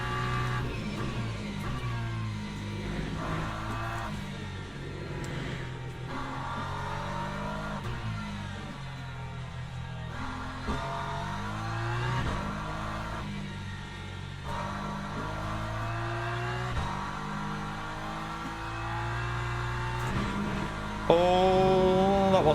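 A race car engine holds steady, loud and close throughout a lap of Paul Ricard in Le Mans Ultimate, with repeated rises and drops in pitch through gear changes and corners and a louder burst near the end.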